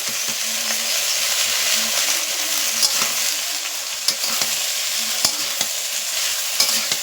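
Ash gourd pieces frying in a kadai, a steady loud sizzle with scattered clicks and scrapes of stirring, no talking.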